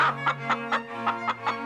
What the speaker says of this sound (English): She ran into the next room and brought out an old chicken.